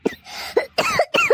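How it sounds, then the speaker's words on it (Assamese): A cartoon character coughs in a rough fit, four separate hacking bursts with brief pauses between, close and loud with no other sound. "তোমাৰ এই কাহটো শুনি শুনি মোৰ একেবাৰে অশান্তি লাগি গৈছেগে"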